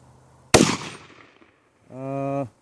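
A 300 Blackout AR rifle fires a single 220 grain subsonic round, a sharp close crack that decays over about a second, followed by a short buzzy tone.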